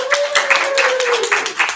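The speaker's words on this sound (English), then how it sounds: "everybody give this grab a round of applause" Applause from a school audience welcoming Miss Randall, presenting at her first Chat and Chew, a scattered burst of clapping with a steady whistling tone running underneath and voices mixed in.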